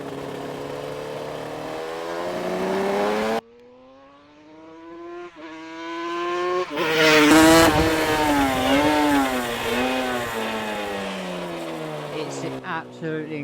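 Suzuki RGV500 500cc two-stroke Grand Prix race motorcycle, the 1989 Pepsi bike, revving hard, with rising and falling throttle blips and a brief quiet gap before a louder, wavering surge.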